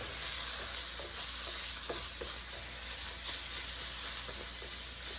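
Mushrooms sauté in a pan with a steady, fairly quiet hiss and faint crackle, broken now and then by a few soft stirring scrapes, and no one talking.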